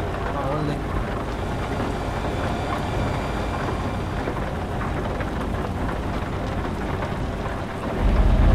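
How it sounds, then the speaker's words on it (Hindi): Heavy downpour and thunder rumble in a Euro Truck Simulator 2 drive, a dense steady wash of rain that swells louder near the end, heard without talk. "थोड़ा घमासान बारिश हो रही है इधर"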